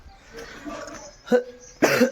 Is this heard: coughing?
yes